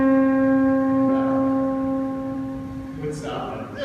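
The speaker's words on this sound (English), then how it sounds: "a spinning motor would sound something like this." A spinning electric motor gives a steady, even hum lasting a few seconds before it breaks up into rougher noise.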